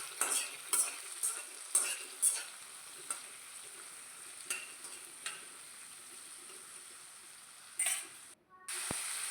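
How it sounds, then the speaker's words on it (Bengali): Thinly sliced tomatoes stirred with spices in a pan while cooking a bitter gourd (karela) vegetable dish, giving a steady soft sizzle broken by several light scraping clacks of a utensil against the pan. "টমেটোটা দেওয়ার পরে মশলার সাথে খুব ভালো করে মিশিয়ে নেব।"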